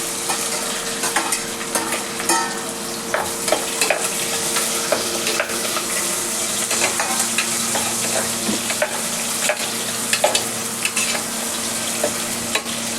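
Garlic and onions fry in a pan for Guntur-style kichidi, a loud, steady sizzle with frequent scrapes and clinks of stirring close by throughout.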